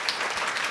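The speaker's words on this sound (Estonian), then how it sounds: "Aga teeme suure aplausi." Brief burst of audience applause for guest Angelica Udeküll at a cooking show event, a dense wash of many hands clapping that lasts under a second.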